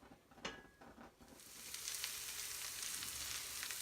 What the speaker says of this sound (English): melt some butter, and we'll be back